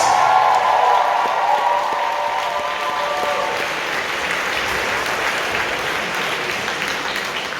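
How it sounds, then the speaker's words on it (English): A crowd at a convention closing ceremony applauds award recipients loudly, dense clapping that starts strong and gradually thins into steadier, slightly softer applause. "Another round of applause for all of our recipients tonight."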